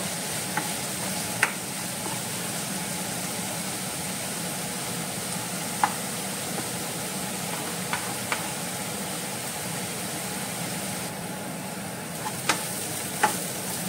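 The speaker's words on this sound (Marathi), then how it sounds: "आतां हांव एड कोता हो चॉप्ड ऑनियन आनी फ्रेंड्स आतां बरो भाजून घेवपाचो" Chopped onions fry in a pan with a steady loud sizzle, broken by a handful of faint clicks and taps from stirring.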